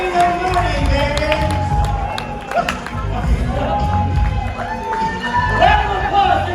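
A crowd cheering and clapping at a live event, loud continuous whoops, shouts and applause close by, with voices mixed into the noise.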